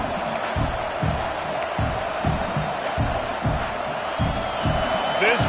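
A stadium crowd in a college football video game roars steadily, with rhythmic chanting pulses and whoops, loud and continuous.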